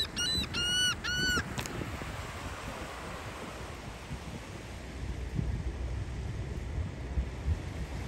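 A bird at the beach gives a short burst of three or four honking calls at the start, then falls silent while steady surf and wind wash on in the background.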